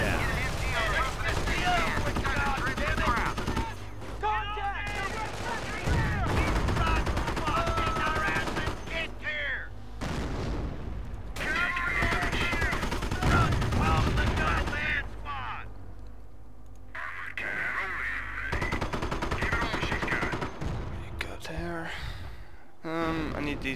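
Rifle and machine-gun fire from the World War II strategy game Company of Heroes crackles repeatedly in bursts with occasional booms, layered under continuous game music and voices talking throughout.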